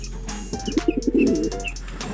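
Breeder pigeons in a loft give soft, close rolling coos in a short series of pulses, with faint chirps around them and no talking.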